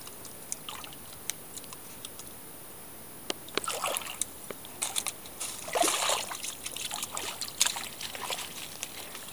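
A video game character wading through water in a warm, watery level, giving soft sloshes and trickling splashes that build from faint ticks into denser close splashing, with no voices.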